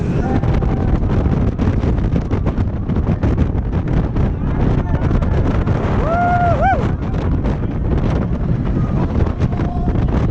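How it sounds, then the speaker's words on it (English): Loud, constant wind buffeting the microphone during a fast roller coaster ride at Europa Park, with a voice briefly calling out over the rushing roar. "Oh, it's a bit windy."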